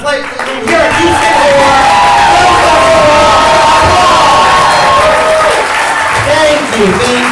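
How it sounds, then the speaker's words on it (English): At the Houston Horror Film Fest, a convention audience gives the Pet Sematary cast panel loud, continuous applause with cheering and whoops filling the hall. "Give them another big applause."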